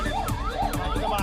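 Wailing emergency vehicle sirens at a large fire in Delhi, the pitch sweeping up and down in quick repeated cycles, loud and close over a steady background roar.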